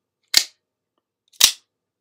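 A knife with a strong spring snaps open twice, each a sharp, loud, isolated click about a second apart, with nothing else sounding between them.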